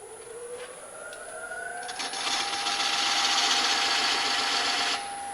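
A wood lathe spins a large walnut bowl with a steady mechanical whine that rises in pitch as it speeds up, over a constant hum, with a scraping texture building in the middle.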